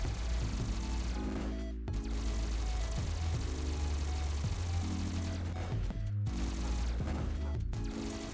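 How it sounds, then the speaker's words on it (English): Rapid gunfire in the video game LifeAfter while swapping between weapons, dense continuous shooting bursts layered over game music, with brief gaps between volleys. "You just swap, shoot, swap, and shoot."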